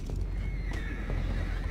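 A horse in Red Dead Redemption 2 gives one short, clear neigh over a steady low rumble, with a faint clatter of hooves in the game scene.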